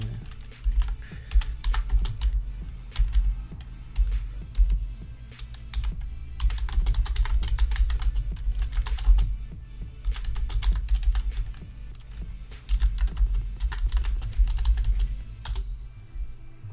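Steady typing on a computer keyboard, dense rapid key clatter in bursts with brief pauses, close and moderately loud with no voices.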